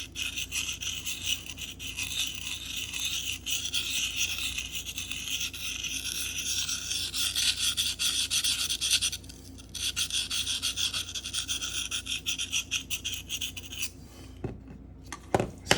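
Knife blade rubbed in small, steady circles on a Sharpal field sharpener platform, a continuous close scraping rasp that runs almost unbroken with one brief pause partway through, ending in a few separate strokes.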